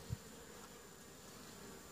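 A faint, steady buzz of honeybees inside a hive weakened by brood disease, a low continuous drone with one soft bump at the start.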